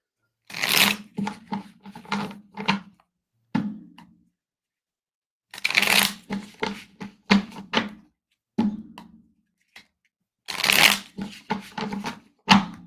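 Bursts of playing cards being riffled and bridged, several rapid flurries separated by pauses, close and crisp.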